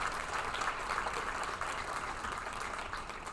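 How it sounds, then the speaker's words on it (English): Crowd at a Senior League state championship grand final applauds the state champion team Manly, a fairly faint, distant but continuous patter of clapping that carries on steadily. "So please give them a round of applause"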